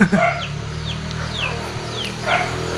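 Backyard chickens clucking softly near a simple outdoor bathroom and water well in a Manado neighborhood alley, a few brief calls rising over steady background ambience.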